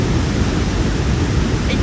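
Roaring spray from Victoria Falls at Livingstone, Zambia, heard from a bridge as a dense, steady, loud wash of falling water and mist that fills the whole clip without a break.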